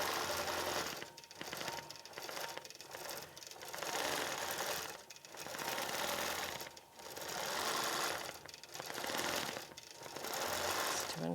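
A quilting sewing machine stitches out fullness on a quilt in a rapid, steady mechanical chatter. It runs in long bursts with short pauses between them and sounds close and loud, with no talking.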